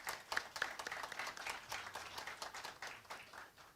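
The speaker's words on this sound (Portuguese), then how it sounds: "eu quero pedir para que vocês, junto comigo, aplaudam o movimento ProArmas agora" Audience at a public hearing on the ProArmas gun-rights movement applauding together, a steady wash of many hands clapping at moderate level, fairly quiet and distant-sounding throughout.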